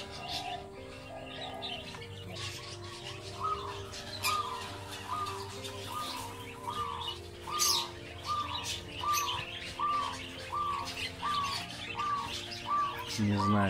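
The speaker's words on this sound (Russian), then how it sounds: "даже по крикам, которые издают птицы, видно, что их здесь очень-очень много" Many lovebirds in a zoo aviary call over one another, with a steady stream of shrill chirps and squawks and a regular repeating call standing out near and loud.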